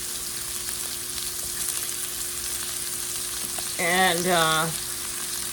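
Portobello mushrooms frying in a pan, a steady close hiss of sizzling, with a brief spoken word over it partway through.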